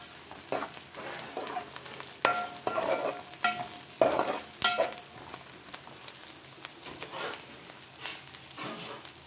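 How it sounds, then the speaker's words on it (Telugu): Dried shrimp and green chilies frying in oil, irregular crackling bursts and spattering pops over a continuous sizzle, close and moderately loud, no speech. "పచ్చిమిరపకాయలు నూనెలో యాగనిచ్చి శుభ్రం చేసుకున్న ఎండు రొయ్యలు వేసాను"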